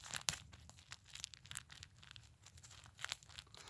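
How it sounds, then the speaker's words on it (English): A SOL heat sheet emergency blanket being unfolded by hand gives a soft, continuous crinkling and rustling, close up and fairly quiet, with a few sharper crackles. "Now, the SOL heat sheet, listen to this."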